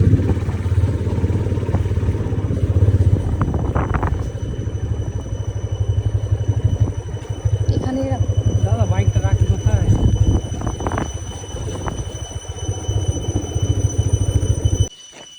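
A motorcycle engine runs steadily nearby with a low, rough drone, occasional clatter and a brief squeal, while people talk over it.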